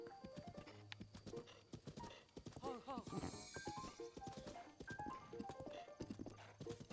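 Horse hooves clip-clop in a rhythmic trot in Breath of the Wild, joined by a brief whinny and game music, with a person talking over it at times.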